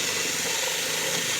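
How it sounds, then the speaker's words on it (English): A power drill whirs steadily at high pitch while drilling a jack hole in a cigar box guitar, a continuous close mechanical whine with no pauses or voices. "So we just drill out"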